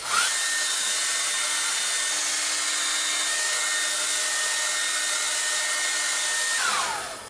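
A hair dryer blows continuously on a watercolor painting to partly dry it, a loud steady whooshing drone close by that runs for several seconds before cutting off near the end.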